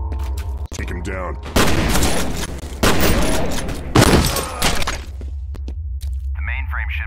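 Gunfire in the video game F.E.A.R.: Perseus Mandate: loud, close bursts of automatic fire with crashing impacts and debris come in waves, and a voice speaks between them.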